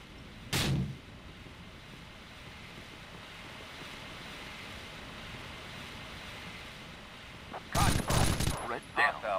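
A flashbang grenade goes off in the Rainbow Six 3 Raven Shield hotel hostage mission, a sharp loud bang followed by a steady ringing hiss. A rapid burst of gunfire and clattering shots erupts near the end.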